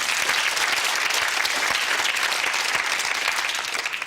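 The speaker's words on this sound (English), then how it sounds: "Round of applause for Garrick" A studio audience on a UK TV game show gives a round of applause for a contestant, dense and loud clapping that stays full from start to finish.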